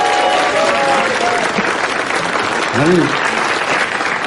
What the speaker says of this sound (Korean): 막 박수 치지 마시고요